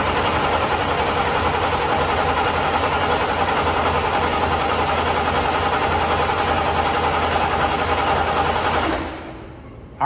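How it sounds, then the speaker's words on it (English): A 1972 Corvette's 454 big-block engine cranks over steadily for about nine seconds in a fast, even starter churn without firing, then cuts off abruptly into quiet. "So I can start this, or I can, at least rotate the motor up and see if we're pumping any fuel"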